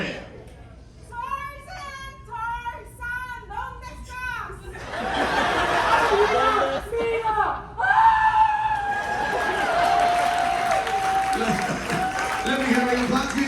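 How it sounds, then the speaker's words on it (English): Crowd on a Carnival Paradise cruise ship sea-day game show reacting to a contestant couple: loud shrieks and excited voices at first, then sustained cheering and clapping that stays loud to the end, with voices mixed in. "Let me hear your applause."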